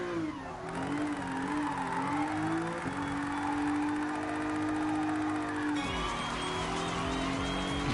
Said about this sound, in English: This is a nice drift car.